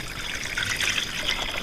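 Water soaked overnight in a homemade pesticide mix being poured out, a steady close trickling and splashing stream with no voices.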